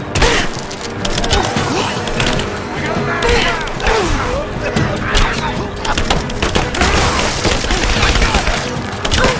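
Continuous gunfire fills a Rise of the Tomb Raider firefight, dense overlapping shots and impacts loud and close, with shouting combat voices mixed in.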